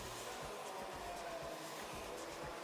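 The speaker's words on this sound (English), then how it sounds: "I do apologise if you can't hear me properly with the hairdryer on" A hair dryer blows steadily and loudly in a salon, a constant broadband roar filling the whole stretch with no breaks.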